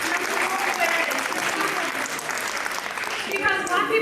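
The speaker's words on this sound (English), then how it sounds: "Clap it up for therapy, mental health awareness." An audience at a virtual Afrobeats dance-off breaks into loud, sustained clapping and cheering while a voice talks over the noise.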